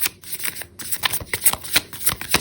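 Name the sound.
tarot cards being shuffled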